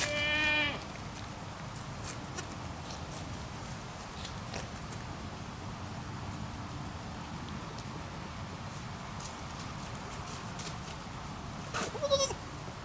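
A goat bleats during a birth on a farm, one call at the start and another near the end, both rising over a steady low background hum.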